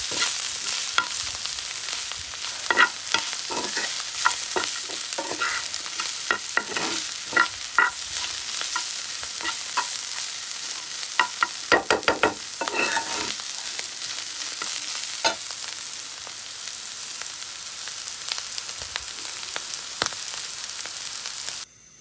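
Bitter gourd fries with shrimp in a pan, giving a constant close sizzle broken by repeated clattering stirs and scrapes of a utensil, busiest in the middle and easing toward the end, with no speech.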